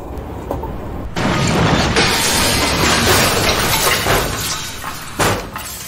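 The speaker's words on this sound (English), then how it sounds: "Trains crashed and derailed." A loud crashing rumble of a video game train crash and derailment, with grinding, shattering debris that swells suddenly and churns on, ending with a final metallic bang.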